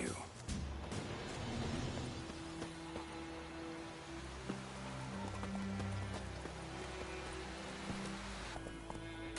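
Roach, a horse in The Witcher 3: Wild Hunt, galloping with steady rhythmic hoof clops over a dense game soundscape of music and ambience, continuous throughout.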